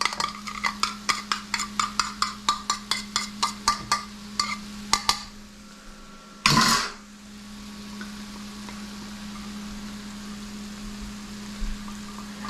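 Oyster sauce and butter noodles being mixed in a pan: a run of about twenty rhythmic metallic taps and scrapes of a utensil against the pan, then a brief loud sizzling burst before a low steady hum.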